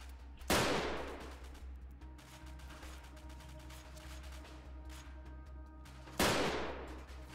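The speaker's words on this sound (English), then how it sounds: "Somehow we're being shot from that position." Gunfire in the video game Freeman Guerrilla Warfare: two sharp, loud shots about six seconds apart, each ringing out with a decaying tail over a steady low rumble and faint ambient hum.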